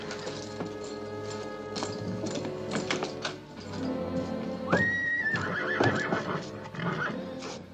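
Hooves of an approaching rider's horse clip-clop steadily in a classic western film, joined by a loud whinny midway, all set against a sustained orchestral score.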